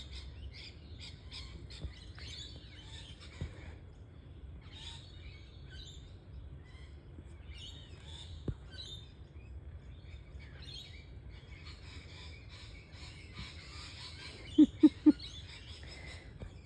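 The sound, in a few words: birds singing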